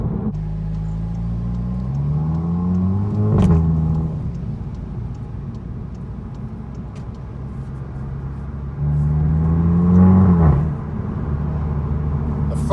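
A Cupra 300 DSG with its exhaust resonator deleted revs hard twice with a deep, throaty exhaust rumble, climbing in pitch, then easing off; steady low road drone between the bursts.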